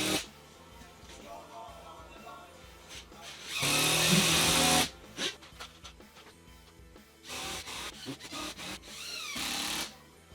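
A drywall screw gun and an impact driver run in turn, driving screws into a panel in a shop: loud buzzing bursts of a second or so, separated by quieter handling noises.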